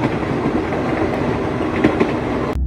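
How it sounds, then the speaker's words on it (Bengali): A train rolls slowly along the tracks in a Bengali horror audio drama, giving a continuous rumbling roar with faint clickety-clack beats. It stays steady and fairly loud until it stops abruptly near the end. "আস্তে আস্তে ট্রেন গন্তব্যের দিকে এগিয়ে যেতে থাকলো।"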